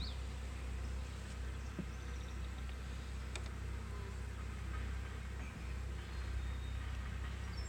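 Honeybees drone in a continuous low buzz around an open hive during an inspection, steady and close, with no voices heard.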